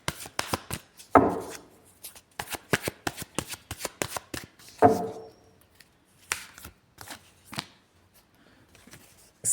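A deck of cards is riffled and shuffled close by in repeated quick bursts, sharp rapid flutters separated by short pauses, with no talking.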